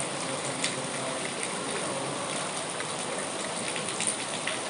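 Rain falls on a rooftop in the hills, a dense, continuous hiss of drops at an even level with occasional slightly sharper patters.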